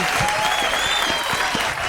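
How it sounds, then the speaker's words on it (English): An audience at a comedy show breaks into loud, sustained applause, with dense clapping filling the whole short stretch and a few faint whistles or cheers mixed in. "let's give a big round of applause to the lovely Shawn Pelofsky."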